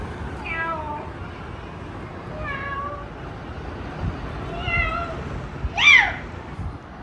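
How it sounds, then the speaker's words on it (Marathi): An old cat meows outdoors, giving four separate drawn-out cries spaced about a second or two apart, the last one louder and closer, over a quiet background with faint room noise. "बाहेरून कोणतरी मांजर ओरडते."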